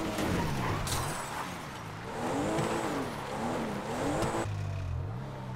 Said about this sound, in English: I'm just going to crash into something.